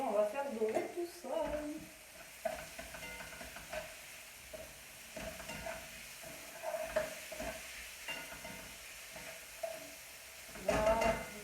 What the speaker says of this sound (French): La courgette, hop, on va mettre avec l'oignon et on va faire dorer tout ça.